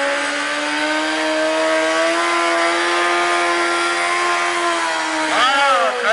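A sidecar motorcycle engine held at high revs on the throttle, a loud, close, steady droning whine that dips and rises briefly near the end.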